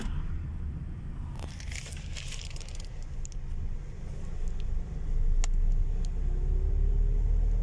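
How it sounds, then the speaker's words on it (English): Slow-moving road traffic heard from inside a vehicle: a steady low engine and road rumble swelling slightly, with a few rustles and clicks close by and no talk. "the traffic here is moving, but slow"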